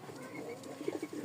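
Pigeons coo softly nearby in a home loft, a few low murmuring calls in quick succession over faint background noise.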